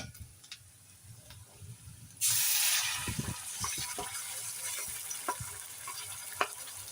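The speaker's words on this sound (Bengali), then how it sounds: "আমরা এটা সেই ভাজা তেলে অ্যাড করব" Onion, dried chili and ginger-garlic paste hit hot oil with a sudden loud sizzle, then a steady frying hiss with occasional stirring clatter, close up and with no talk.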